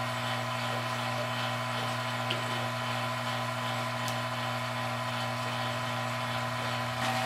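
A vacuum pump hooked to a car's air-conditioning system runs nearby, giving a steady, even drone with a strong low hum and a broad hiss that holds constant throughout, with no talking.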